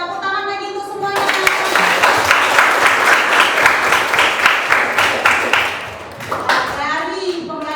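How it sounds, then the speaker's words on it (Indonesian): Classroom applause from a group of students, a burst of dense clapping that starts abruptly and runs steadily for several seconds before tapering off, with a voice speaking at the start and the end. "Tepuk tangan lagi untuk semuanya"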